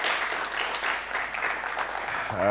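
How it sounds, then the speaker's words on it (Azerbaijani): Steady audience applause in a studio, a continuous wash of clapping that holds evenly before a voice begins to speak at the very end. "Bir də alqışlayırıq sizləri."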